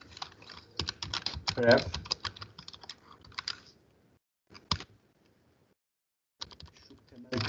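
Rapid clicking of a computer keyboard as code is typed for a Python and Flask web app, with bursts of keystrokes broken by pauses and someone talking over parts of it.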